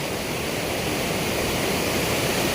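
A flowing monsoon stream in a village setting, a steady, loud, close rush of water that stays constant throughout, with no voices.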